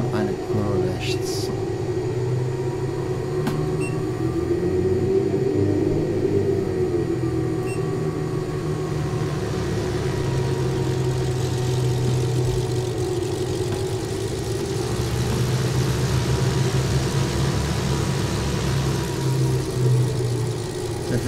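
Twin piston engines of a Beech Baron 58 in the FSX flight simulator drone steadily for the whole stretch, a loud, even hum with a slight beating between the two engines, heard alone with no talk.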